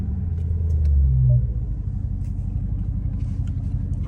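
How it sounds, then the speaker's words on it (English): A Dodge Charger Scat Pack does a launch-control run with the windows down, heard from inside the cabin as a deep, loud engine rumble that swells briefly and then settles into a steady drone. "I'll give y'all one more launch control, bro."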